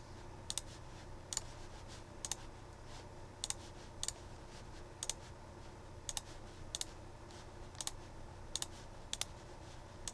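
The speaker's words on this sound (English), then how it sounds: "So I'm just going to click refresh." Mouse clicks and keyboard taps at a computer while working in Salesforce inventory management software, sharp isolated clicks every second or so over a steady low hum, with no talk.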